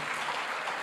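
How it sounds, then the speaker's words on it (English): Applause from a conference audience at an investment event, a brief, fairly soft wash of clapping heard on its own. "I want us to give a round of applause for CFA Nigeria for this opportunity"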